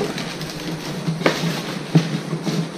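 Close, continuous rustling and crinkling of paper being handled, with a few sharper crackles standing out from the steady scratchy noise.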